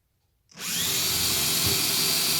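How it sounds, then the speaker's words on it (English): After a brief silence, a power drill whirs up and runs continuously at high speed, loud and close, biting steadily into wood. "You could use a drill, right?"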